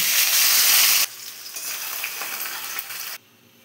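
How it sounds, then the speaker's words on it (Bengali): Fish frying lightly in oil in a pan: a loud dense sizzle that drops suddenly to a softer steady hiss with faint stirring, then cuts down sharply to quiet near the end, no talking. "তুলে মাছটা একটু হালকা ভেজে নেব"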